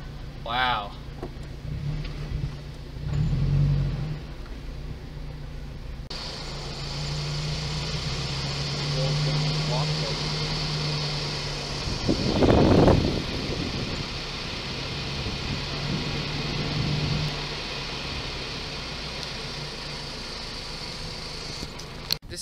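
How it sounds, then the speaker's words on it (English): Old antique car engines idling and running nearby outdoors in a small western-style town, a low steady rumble with a louder passing surge midway, while someone talks over it. "Old antique cars here."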